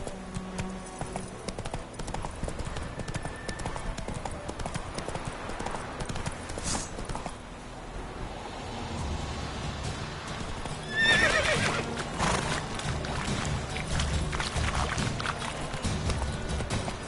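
In The Witcher 3, the horse Roach gallops with fast, rhythmic hoofbeats and gives a loud whinny partway through, all set against a busy game soundtrack and ambience.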